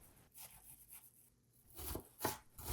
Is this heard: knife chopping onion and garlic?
yes